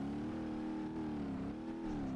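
Car engine revving steadily in BeamNG.Drive during a track race with a Hirochi mod car, a continuous droning tone that rises and dips slightly, close and loud, with no talk.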